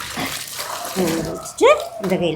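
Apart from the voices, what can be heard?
clothes being rinsed by hand in water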